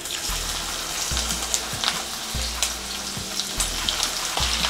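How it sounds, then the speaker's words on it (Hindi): Okra fries in oil in a wide-mouthed pan over a high flame, giving a continuous bright sizzle with a low background hum and a few faint clicks, and no talking. "इनको हाई फ्लेम पे ही फ्राई करना है"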